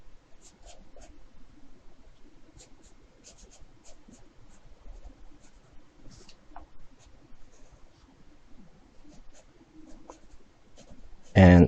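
A pencil sketching a figure drawing on paper: faint, intermittent scratchy strokes repeating throughout, with a louder rustle at the very end.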